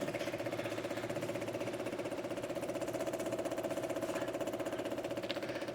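A fuel or fluid pump on a VW Karmann Ghia runs steadily, with a quiet, even mechanical whir and regular pulsing throb and no voices over it.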